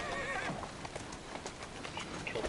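Horse hooves clip-clopping on a street as a horse-drawn buggy rolls through Victorian London in Assassin's Creed Syndicate, with a horse neighing and whinnying over steady game ambience.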